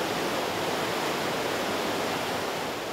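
Sewage water at a treatment plant pours and rushes in a steady, loud, hiss-like roar, unbroken and even throughout with no voices.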